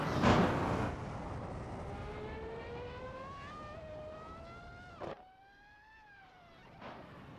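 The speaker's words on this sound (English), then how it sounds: "This is a fairly quiet F1 car compared to the other one I heard earlier" An F1 car from the 1991 season at Estoril, in a racing video game, winds up through several gears with rising, shifting engine pitch, then drops away to a quieter whine before another brief surge.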